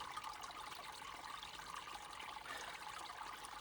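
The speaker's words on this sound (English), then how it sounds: "Today, me and you are here at the Babbling Brook." Soft, steady trickle of water in a babbling brook, continuous and faint, with no talk.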